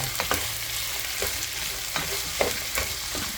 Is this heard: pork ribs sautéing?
yes